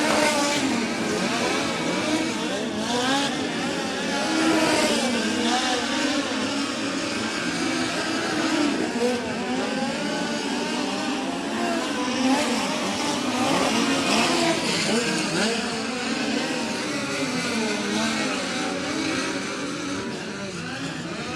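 Race cars circle a dirt track during hot laps at the USAC BC39 at Indianapolis Motor Speedway, engines droning and revving loudly and continuously with overlapping passes, under steady commentary.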